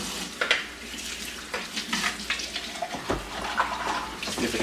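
Running water rinsing the detached milk container parts of a Philips 3200 Series fully automatic espresso machine, a close splashing stream broken by irregular clatters and knocks of plastic pieces being handled.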